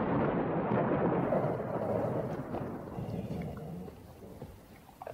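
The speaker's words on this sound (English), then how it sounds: "it sounds as if the storm is coming back" A thunderstorm's long rumble of thunder rolls loudly at first and slowly fades away over a few seconds, with a rain-like wash beneath it.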